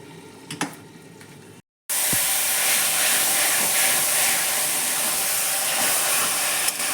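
Cabbage steams under a lid in a covered pan. A steady, loud, broad hiss runs continuously after a brief silent gap near the start, with no voices.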